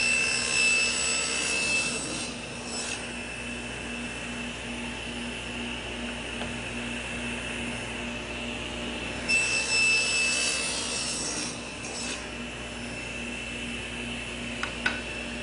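A saw widens a cut in wood, cutting bridle joints in cabinet stiles. It makes a continuous, even, whining roar that stays close and fairly loud for the whole stretch, with no talking.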